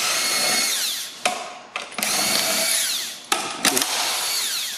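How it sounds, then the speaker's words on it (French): A power tool unbolts the axle bolts on a Track N Go track, loud, close bursts of high whirring broken by several brief stops and restarts as each bolt comes loose. "Et on va procéder à déboulonner tous les boulons des essieux."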